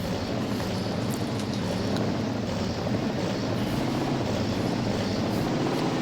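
A heavy truck engine drones continuously in the Mudrunner video game while the clutch is feathered, a thick, steady low rumble with no pauses.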